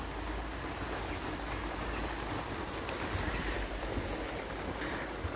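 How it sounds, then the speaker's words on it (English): Heavy rain drums on the roof of a workshop during a downpour, a steady, dense hiss and patter with a low rumble that continues evenly throughout, with no talking. "Sorry about the noise on the roof, it's really chucking it down with rain outside."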